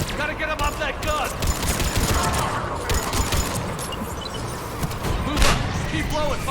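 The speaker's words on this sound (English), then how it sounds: "Trooper on the gun, Shepard. Gotta get him off that gun!" Gunfire fills a battle in Mass Effect Legendary Edition, with dense bursts of shots, thuds and impacts layered throughout and voices shouting orders over the fighting.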